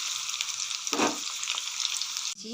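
Ginger fries in hot oil in a pan, a close, continuous crackling sizzle with a brief stirring scrape partway through and a sudden shift near the end.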